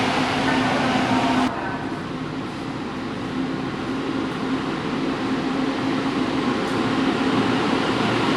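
Steady rumbling of a train bound for Antipolo Station at a platform, a broad continuous roar with faint hums and a slight drop in level early on.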